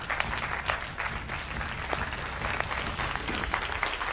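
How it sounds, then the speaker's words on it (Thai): Audience applause at a live reaction show, a continuous wash of many hands clapping at a steady level, slightly distant and fairly quiet, with a few sharper claps standing out. "ขอเสียงปรบมือด้วย"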